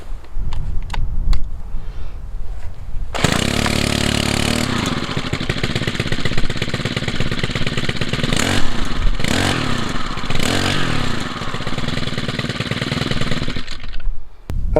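A Stihl FS 90 brush cutter's small two-stroke engine starts with a few pull-cord sounds and catches. It then runs loud and close, buzzing with rising and falling revs for about ten seconds.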